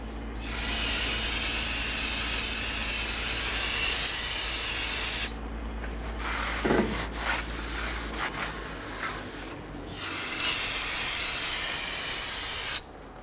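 Brake solvent sprayed onto a front brake rotor of a 2011-2019 Ford Explorer, two loud, steady hissing bursts of several seconds each with quieter wiping and handling sounds between them, close up.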